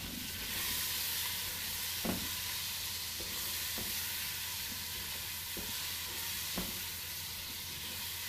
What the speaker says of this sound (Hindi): चिकन को हमने फ्राई करना है अच्छा सा